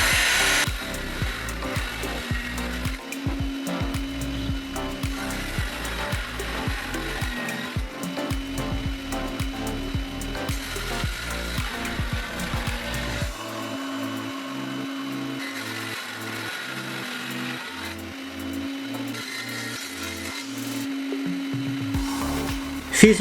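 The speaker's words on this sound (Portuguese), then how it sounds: "Vou abrir esta caixa ao meio fazendo um corte em toda a volta na minha serra de bancada." Table saw cutting all the way around a wooden box to split it in half, a loud continuous whine and grind of the blade biting through wood, with shifting pitch as the cut moves along the box, no voices.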